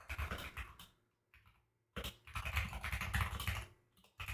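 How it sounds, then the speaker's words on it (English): Steady typing on a computer keyboard, rapid clusters of soft key clicks in two bursts with a brief pause between, close and quiet, no voices. "I should be typing too"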